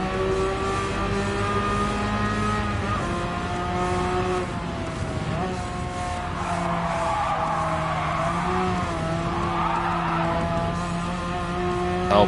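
An old Porsche racing car in Gran Turismo 7 slides with sustained tire squeal over a steady engine drone, continuous and loud, the pitch wavering as the rear end swaps.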